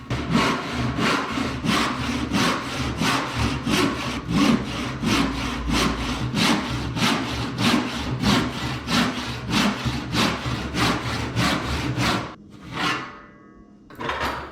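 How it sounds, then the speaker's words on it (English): A hand saw cuts through a wooden board clamped in a rickety setup, with loud, close, rhythmic push-pull strokes for about twelve seconds, then a brief pause and a last few strokes. "I decide to saw it"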